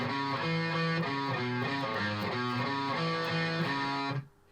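Distorted electric guitar riff played with bare fingertips, choppy and detached, repeating chord stabs in a steady rhythm before ringing off into silence.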